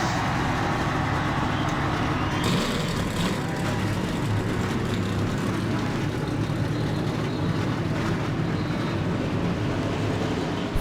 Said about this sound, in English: 42 engines roar to life in Daytona Beach, Florida to do battle in the biggest race of the season